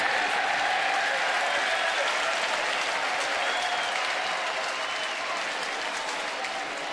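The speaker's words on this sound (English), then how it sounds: "Fans applauding Sokolovic" Baseball fans in a stadium applauding pitcher Sokolovic during a Mariners at Orioles game, a continuous wash of distant crowd clapping and murmur, steady and broad, slowly easing off toward the end.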